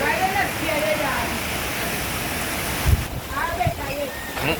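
Steady rain hisses down near a river as a broad, constant wash of noise, with people talking faintly over it.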